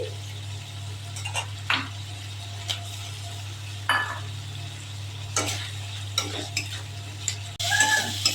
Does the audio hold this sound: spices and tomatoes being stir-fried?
yes